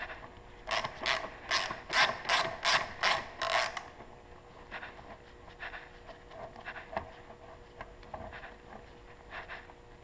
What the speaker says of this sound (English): So I'm gonna take the top nut off and the bottom bolt off.